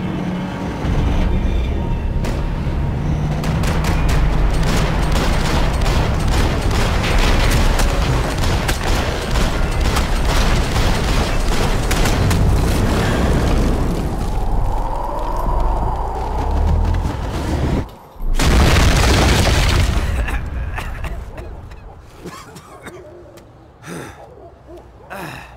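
Max Payne 3 cutscene combat with loud, sustained gunfire and explosive blasts under a dense din, a brief drop in the middle before another loud burst, then fading near the end.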